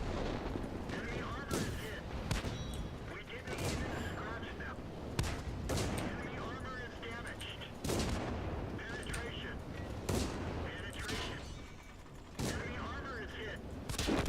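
A Pz B2 tank fires its main gun in a tank video game, sharp loud blasts repeating every couple of seconds over battle noise, with a voice talking underneath.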